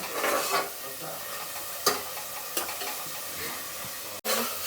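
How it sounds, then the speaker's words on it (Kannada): Onions fry in a pan over a medium flame for a Mandya-style chicken biryani, giving a steady soft sizzle with a few sharp utensil knocks, no talk over it. "ಚೆನ್ನಾಗಿ ಅದು ಈರುಳ್ಳಿ ಸ್ವಲ್ಪ ರೆಡ್ಡಿಶ್ ಬರೋವರೆಗೂ ಫ್ರೈ ಮಾಡಬೇಕು."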